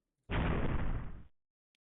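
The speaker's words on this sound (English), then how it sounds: "Yeah, big explosion. That'll do. Hard to mistake a big explosion." A loud, sudden explosion sound effect from a DOS space-cat game in development bursts in abruptly, holds as a thick, full roar for about a second, then cuts off sharply into silence.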